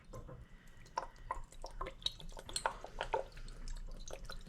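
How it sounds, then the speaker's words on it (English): Worcestershire sauce is poured over meat to soak it. Soft, irregular drips and splashes sound faint and close. "I like to soak the meat first in the Worcestershire."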